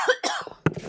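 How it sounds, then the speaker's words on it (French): Two or three short, close coughs in quick succession, sharp and breathy, with no talking. "Pardon, j'ai une toux."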